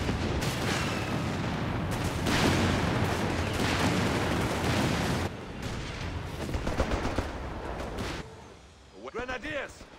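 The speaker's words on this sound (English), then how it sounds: "Stuka aircraft ready to strafe our enemies." Strafing gunfire from a Stuka aircraft in the WWII strategy game Company of Heroes 3, loud, dense bursts of shots and blasts over battle noise, easing after eight seconds into thinner crackles.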